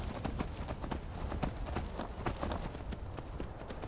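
A horse galloping in Skyrim Special Edition, with fast rhythmic hoofbeats pounding steadily and close throughout, loud and continuous without pause.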